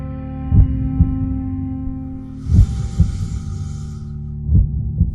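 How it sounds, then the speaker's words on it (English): Deep, heavy heartbeat thuds pound at a slow, uneven pace over a low steady hum, with a brief hissy wash in the middle. "Your ears are deafened by the sound of your own heartbeat."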